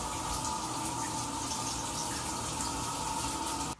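A shower runs steadily at home, a continuous hiss of falling water that holds even throughout before cutting off abruptly at the end.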